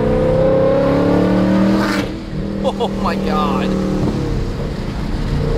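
A Ford Mustang Mach 1 with a Coyote V8 on an E85 tune roars loudly at close range under acceleration, a strong engine drone that eases at mid-clip before pulling on again, with a person exclaiming over it.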